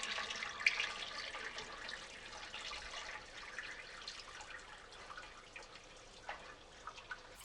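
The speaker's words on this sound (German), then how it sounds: "das Ganze wird jetzt mit heißem Wasser aufgefüllt" Hot water poured over beef in a preserving jar for home canning, a steady faint trickle and splash running alone throughout with a few small drips.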